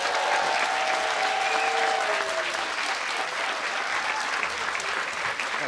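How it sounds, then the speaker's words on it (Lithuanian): Dense, loud applause from an audience of Lithuanians in Oslo greeting a guest speaker, steady and continuous throughout with no voices over it. "Aplodismentai."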